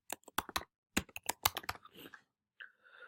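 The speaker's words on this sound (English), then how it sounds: "So I'm just typing something, you get the idea" Someone types on a computer keyboard nearby, with quick bursts of key clicks, a short pause, and then a few softer clicks. The typing is fairly quiet and there is no talking.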